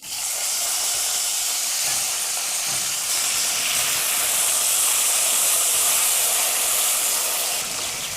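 Eggplant pieces sizzle in hot oil with curry leaves and asafoetida for vangi bhath, a loud, steady frying hiss that holds throughout with no voices.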